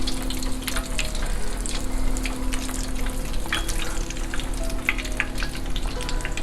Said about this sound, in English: we will dump it into the oil. So for this process guys, you have to make sure your oil is hot